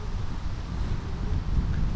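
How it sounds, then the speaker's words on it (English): Wind buffets the microphone on a disc golf course during the Nokia Open, a steady low rumbling roar that rises and falls in gusts for two seconds, with no voices. "A little windy, though."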